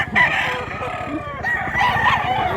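An old rooster crows nearby, two strained, wavering calls separated by a short pause, with a faint voice murmuring in the background.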